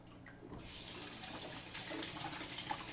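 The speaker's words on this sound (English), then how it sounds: "Ooh, that's hot water." Hot water running steadily from a kitchen tap into a sink while cooking, a continuous close splashing hiss that holds level for the whole stretch with no talking.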